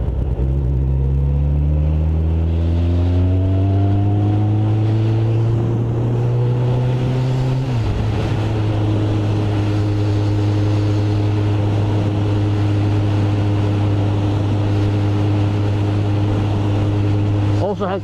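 Steady engine drone of a Kawasaki ZX14R sport motorcycle on the road, loud and close throughout, its pitch climbing through the gears in the first seconds, then a shift and a constant cruising hum with wind roar, a voice speaking over it.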